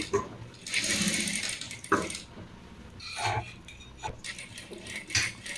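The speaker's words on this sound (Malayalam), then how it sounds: "നമ്മൾ അടയാളപ്പെടുത്തിയ ഭാഗത്ത് തയ്ച്ചു പോകും." A sewing machine stitching pleats into fabric, running in close, loud whirring bursts separated by brief pauses.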